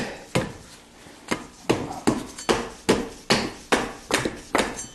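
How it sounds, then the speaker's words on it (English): A dead blow hammer taps a bolt on a 1976 Corvette power steering bracket about a dozen times in an uneven rhythm, each strike sharp and close with short gaps between blows. "Let me grab a dead blow hammer to tap that out."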